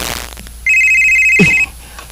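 A mobile phone ringtone plays in a short indoor comedy scene: one steady electronic tone with bright overtones holds for about a second, briefly overlapped by a low voice near its end, then cuts off.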